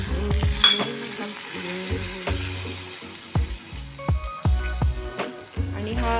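Jaggery melts with a little water in a pan over low heat for a sesame laddoo syrup: a soft continuous bubbling sizzle, overlaid by loud, repeated metallic spoon scrapes and clinks against the pan, with no talk.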